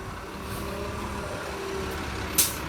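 A Route 60 city bus pulls over at a bus stop, a low steady engine rumble with a brief sharp hiss of air brakes near the end, moderately distant, no talking.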